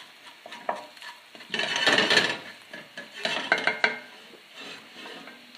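Garlic cooks in a pan for dal, with gentle sizzling and bursts of stirring and scraping against the pan, close and moderately loud.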